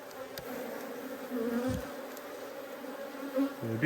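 Honey bees buzz around an open hive in wet weather, a soft, steady droning hum with individual bees whirring closer now and then over faint handling noises.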